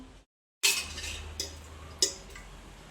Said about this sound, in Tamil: திருப்பி மூடி இறக்கி வச்சுக்குவோம்